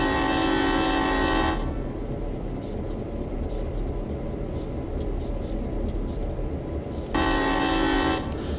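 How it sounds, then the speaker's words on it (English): Two long, loud blasts of a diesel locomotive horn in the game Train Sim World 2 on the Clinchfield Railroad sound at the start and near the end, with a steady engine rumble continuing between them. "Does that horn sound alright?"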